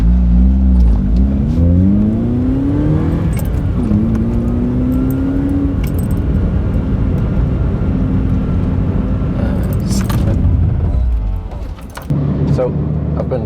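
A car rolling on Toyo R888 semi-slick tyres: steady engine and road drone throughout with rising and falling engine tones, a brief dip near the end, loud and close from inside the cabin.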